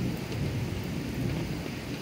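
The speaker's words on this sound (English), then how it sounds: "there's some good lightning with this storm." Thunderstorm with steady, dense rain and rolling thunder, a continuous loud wash of low rumble and hiss with no break.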